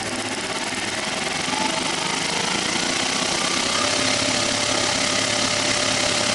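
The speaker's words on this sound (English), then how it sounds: "That's 850 engine speed." Steady idle of a 1969 Triumph Daytona T100R motorcycle engine at about 850 rpm, fitted with electronic ignition, a close, even mechanical chatter and rumble running continuously without speech.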